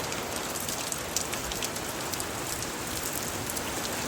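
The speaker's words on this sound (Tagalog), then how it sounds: "Lakas ng ulan, guys." Heavy rain pours down steadily, a dense, even hiss of countless drops hitting surfaces close by, loud and unbroken, with no talking.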